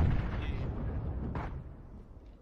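Enemy gunfire in a shooter video game: a loud close boom at the start, followed by a decaying rumble and a second sharper shot partway through, fading out.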